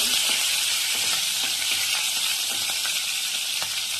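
Small chopped green chillies frying in hot oil in a pan, a steady close hiss of sizzling with faint light stirring clicks scattered throughout.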